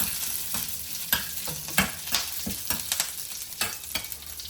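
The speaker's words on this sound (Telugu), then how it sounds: "కరివేపాకు వేస్తే తిప్పట్లాడుతూ తేలుతూ ఉంటుందండి" Curry leaves sputter and crackle in hot oil with a dense, loud sizzle and rapid popping bursts close up, continuing throughout with no voices.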